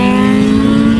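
A full-carbon BMW M1000RR superbike engine pulls hard in a steady, loud, high-pitched drone, close by and unbroken, with no talk over it.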